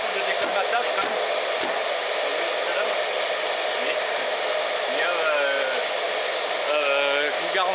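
A Bosch GAS 35 M AFC dust extractor runs with a constant loud whooshing roar, the airflow pitch shifting slightly as suction is adjusted, with someone speaking briefly underneath.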